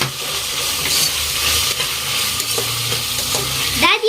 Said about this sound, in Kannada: ಈಗ ಟಮಾಟೆ ಹಾಕೊಂಡಾಗ ಕೊತ್ತಂಬರಿ ಈಗ ನಾಲ್ಕು ಮೆಣಸಿನ್ಕಾಯಿ ಹಾಕೊಂಡು ಇದನ್ನು ಪೂರನೂ ಕೈ ಹಚ್ಕೊಂಡ್ಬಿಡ್ತೇನೆ